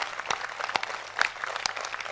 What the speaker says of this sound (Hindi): दोनों हाथ बुझाकर 1 मिनट तक ताली बजा दे उन वीरों के अभिनंदन में